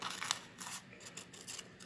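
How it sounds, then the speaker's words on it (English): Ribbon scissors snip through a sticky note in several short, crisp cuts close to the microphone, quiet and without any talking. "I'm using my ribbon scissors."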